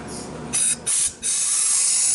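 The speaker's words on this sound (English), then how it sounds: "where you apply air to see if this piston will apply" Compressed air blows into a 2008 GMC Acadia transmission to test a piston, giving close, loud hissing bursts: two short blasts, then a sustained stream.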